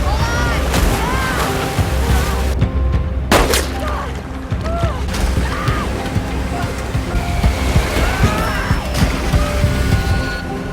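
Loud rushing whitewater from river rapids and a waterfall roars continuously, crashing and churning, while voices shout over the torrent in a film scene.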